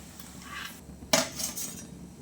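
Metal utensil scraping and clinking against a frying pan while lifting fried chicken cutlets out, a few quiet, close taps and one sharper clink.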